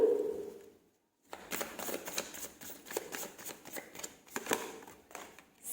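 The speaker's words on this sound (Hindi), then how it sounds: "कुछ और कार्ड्स ले लेते हैं।" Tarot cards are shuffled and drawn by hand, giving quick riffling and flicking bursts close to the mic after a short pause, fairly soft, with no voices.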